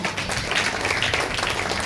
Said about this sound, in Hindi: जाओ जोरदार ताली बजाएंगे परमेश्वर के लिए